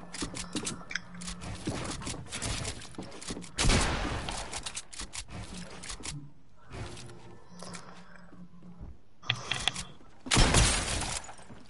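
Video game gunfire comes in bursts of rapid shots separated by quieter gaps, with louder volleys near the start, middle and end, plus some metallic clatter and breaking sounds.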